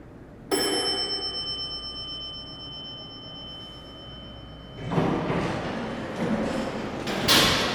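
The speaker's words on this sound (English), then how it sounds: "Dover door equipment." Vintage 1970s Dover hydraulic elevator doors at a department store open with a chime-like ring followed by a mechanical sliding rumble, then a second burst of door motion near the end.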